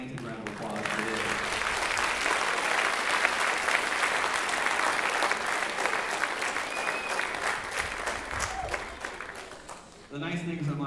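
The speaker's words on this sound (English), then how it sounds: "please give them a gigantic round of applause for this" Audience applause at a school beginning band spring concert, a loud, sustained roar of many hands clapping in a hall, fading near the end as a voice begins to speak.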